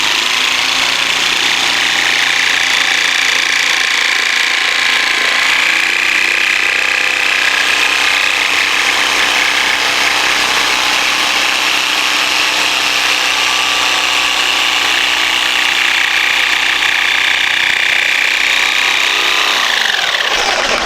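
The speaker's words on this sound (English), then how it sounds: "Now once again I'll remove the jigsaw, put in from the back side, one more release cut" Jigsaw cutting a coped profile in crown molding, a loud continuous buzzing rasp of the blade through wood that holds steady for the whole stretch without pause.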